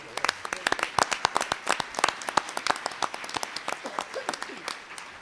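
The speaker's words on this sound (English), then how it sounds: "Please stand and let us applaud your leadership." Audience applause for state senators and state representatives at a leadership forum, a crowd clapping with sharp, distinct individual claps close by, steady for about five seconds.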